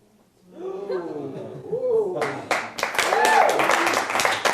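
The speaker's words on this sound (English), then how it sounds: "Big round of applause for you." A voice speaks briefly, then a burst of clapping breaks out from a small crowd and continues steadily, with talking mixed in beneath it.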